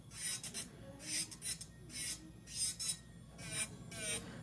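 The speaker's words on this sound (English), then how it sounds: "You guys notice when I'm drilling this, I'm not drilling the same way." An electric nail drill files an acrylic nail with a Chisel 174 bit in short, rasping bursts, about six passes with brief pauses between, close and fairly quiet.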